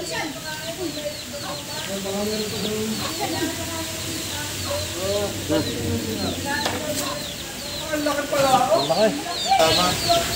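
Chickens clucking near a nest, repeated close clucks and calls with a rooster-like fowl present, while people talk over them.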